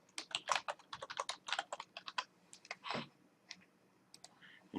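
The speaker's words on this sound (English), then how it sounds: "type in your username" Quick, close keystrokes on a computer keyboard as a username and password are entered, a bright irregular patter of clicks with short pauses and no voice over it.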